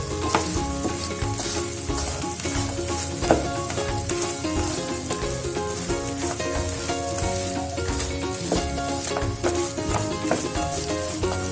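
Bread pieces being tossed and mixed in a hot frying pan for a quick snack, with a steady, close sizzle and scraping stir strokes throughout and no talking.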